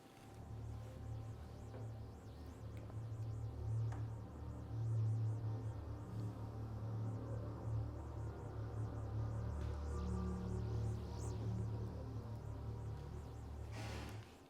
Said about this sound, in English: This speaker emits ambient sounds that have been harmonically filtered